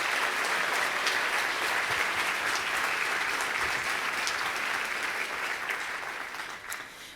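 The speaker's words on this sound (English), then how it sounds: "A round of applause for Roy," A gala audience claps loudly and steadily, a dense wash of applause that eases off slightly toward the end, with no talking over it.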